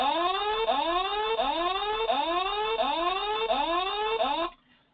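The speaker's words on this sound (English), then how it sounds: "So I'm going to play you what a warning alarm sounds like." A G7 safety monitoring device sounds its warning alarm: a loud, repeating rising electronic tone sweeping upward about six times in steady rhythm, then cutting off abruptly.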